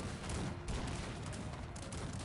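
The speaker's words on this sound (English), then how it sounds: "the cannons can start shooting right here" Cannon fire in the strategy video game Cossacks 3 rolls as a dense, continuous rumble of overlapping booms. It stays loud throughout and carries no speech.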